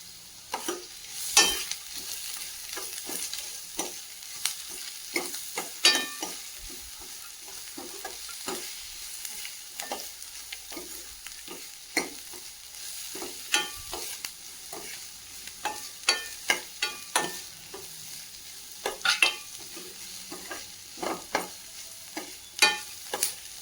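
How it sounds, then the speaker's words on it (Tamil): Onions frying in a pan until golden brown for a spinach kadaiyal, with a soft continuous sizzle and frequent scraping, clattering stirs at an irregular pace, close by and with no talk. "வெங்காயம் நல்லா பொன்னிறமாக வதங்குற வரைக்கும் ஆட் பண்ணி வறுத்து எடுத்துக்கலாம்"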